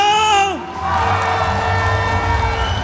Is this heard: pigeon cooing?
no